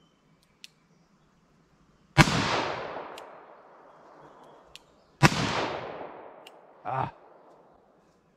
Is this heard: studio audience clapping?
no